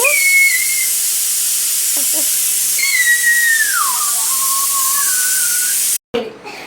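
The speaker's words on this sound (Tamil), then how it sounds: "சரி, இப்போ மூடி போட்டு விசில் விட்டுடலாம்." A pressure cooker cooking mutton biryani lets off a loud, continuous hissing steam whistle whose pitch wavers and slides for several seconds before abruptly cutting off, followed by muffled clatter.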